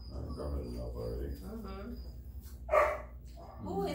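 A Rhodesian Ridgeback puppy gives a short bark partway through, fairly close, while people talk in a veterinary exam room.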